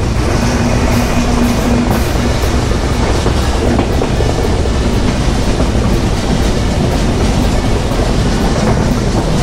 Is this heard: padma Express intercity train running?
yes